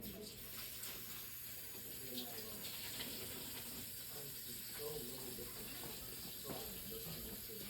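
Faint steady rush of water running from a tap in the background, continuous throughout with soft clinks and muffled movement nearby.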